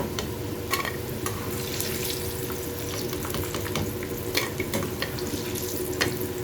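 Steady, busy crackling and sizzling of potatoes frying in hot oil, continuous and fairly loud throughout.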